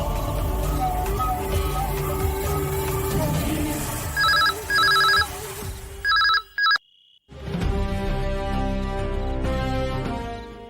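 A telephone rings in short repeated bursts over background music and room sound, the ringing stopping abruptly before a brief silence and the music resuming.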